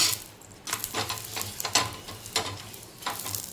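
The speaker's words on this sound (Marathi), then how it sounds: "व्यवस्थित असं तांबूस कलर येईपर्यंत भाजून घ्यायचे" Palak paratha roasting on a hot pan until golden brown, a steady low sizzle broken by repeated scraping and stirring sounds from a spatula, close and moderately loud with no talking.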